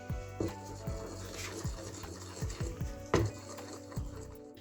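A spoon stirring poppy seeds and lemon zest into a cheesecake mixture in a bowl, with repeated soft scraping strokes and light clinks against the bowl in an irregular rhythm, close and fairly quiet.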